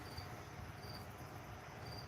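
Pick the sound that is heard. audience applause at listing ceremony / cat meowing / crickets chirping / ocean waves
crickets chirping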